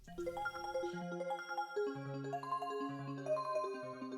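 A MIDI track in Cakewalk by BandLab runs through an arpeggiator at a 16th-note rate, giving bright synth tones that step quickly up and down over sustained lower notes. The pattern is steady and rhythmic, with no voices.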